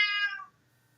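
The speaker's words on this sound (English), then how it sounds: "That's my cat." A house cat gives a single clear, close meow lasting about half a second, then quiet room tone follows.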